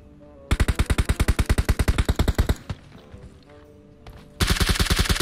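Automatic gunfire in an online shooter game, a fast loud burst of about twenty evenly spaced shots, followed by a quieter gap with faint game noise and then another dense burst starting.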